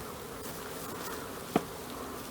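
Honey bees, about half a cup of them, buzz inside a container, a constant close droning hum with one brief sharp tap partway through.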